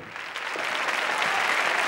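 A TV studio audience claps steadily, a dense burst of applause that holds at an even level throughout.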